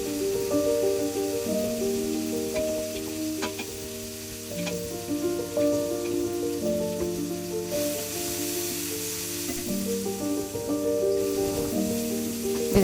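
Vegetables with softened onion and turmeric fry in a pan with a loud, steady sizzle and occasional stirring scrapes. The sizzle runs under tonal background music and carries no speech.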